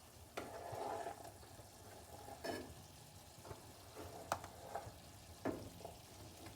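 Sliced zucchini frying in a pan, a faint soft sizzle with scattered clacks and scrapes of stirring and handling, no talk.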